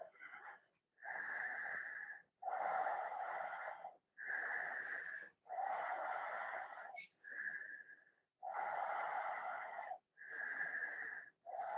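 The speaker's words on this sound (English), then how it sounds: "Nice fluid breaths in and out." Slow, steady breaths in and out during a yoga shoulder stand at a sunrise vinyasa flow practice, close and audible as long whooshing inhales and exhales alternating in an even rhythm with brief pauses between them.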